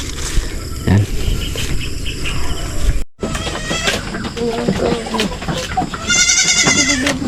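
Goats bleat on a farm, a few loud, close calls rising over a busy outdoor background with insects. A brief dropout breaks the sound partway through, and people talk nearby.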